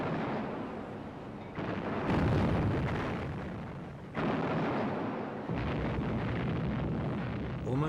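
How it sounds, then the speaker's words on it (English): A battleship explosion as a Bismarck shell strikes HMS Hood in a 1941 naval clash, heard as a loud, sustained roaring blast with repeated heavy booming surges and rumbling, no voices. "There was a huge explosion."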